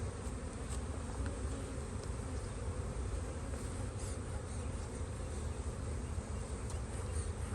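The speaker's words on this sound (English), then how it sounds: "Look at that box of bees." An open brood box packed with honey bees gives a dense, unbroken buzzing drone, close and steady throughout, with no talk over it.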